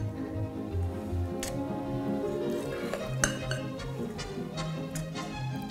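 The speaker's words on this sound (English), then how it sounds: "now I'm ready to fill up our muffin cups" Soft, light chocolate chip pumpkin muffin batter spooned into muffin cups, a few scattered metallic spoon clinks and taps over a steady background hum, close and moderate in level, with no voices.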